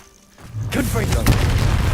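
A loud, close boom from a Confringo fire spell in the video game Hogwarts Legacy, bursting after a quiet moment and rumbling on with crackle, a voice calling out over it.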